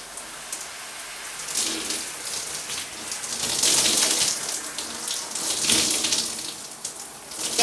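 Water streams steadily while shampoo is rinsed out of hair, a close splashing rush that swells and ebbs in loudness for several seconds with no talking.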